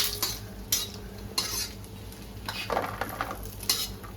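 Grated coconut roasting in oil in a pan, a soft sizzle broken by several scraping strokes of a spoon and light metal clinks, nearby with no talk.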